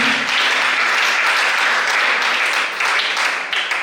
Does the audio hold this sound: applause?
yes